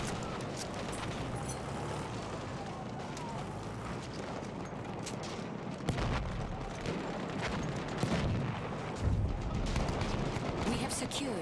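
Battlefield 1 battle noise with mortar fire, dense gunfire crackle and scattered thumping impacts throughout, steady and fairly loud, with a voice speaking over the din.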